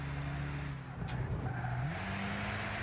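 A race car engine in the video game Gran Turismo 6 drones steadily, its pitch shifting as gears change, with a brief tire squeal mixed in. The sound is loud and close.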